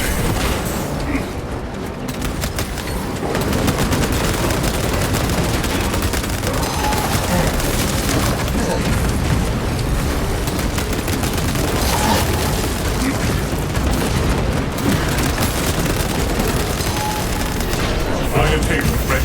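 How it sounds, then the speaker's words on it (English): Sustained dense battle din from Warhammer 40k Space Marine 2: a frag grenade blast amid continuous rapid gunfire and booms, loud and unbroken throughout with no talk. "Throwing frag grenade."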